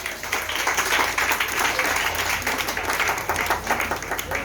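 A church congregation claps and cheers in praise, a dense, continuous wall of applause that fills the room from start to finish.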